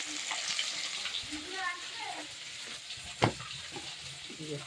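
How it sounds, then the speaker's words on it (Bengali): A piece of fish fries in a pan while spice paste cooks nearby, a soft, fairly quiet sizzle with a sharp utensil knock midway and faint background voice fragments. "মাছের এক পিস ভাজা হয়ে গেছে, আর এক পিস ভেজে নিচ্ছি।"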